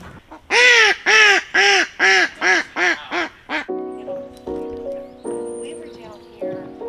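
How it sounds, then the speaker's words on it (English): A duck gives a loud, close run of about eight quacks that slow and fade in a descending series. Softer tonal calls or sounds follow over the last few seconds. "Look at the duckies!"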